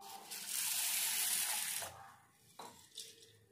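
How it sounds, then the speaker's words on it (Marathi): Water pours from a tap into a bowl of sago for soaking, a close, steady gushing stream lasting under two seconds, followed by faint drips and small splashes. "ह्यात घातले मी पाणी"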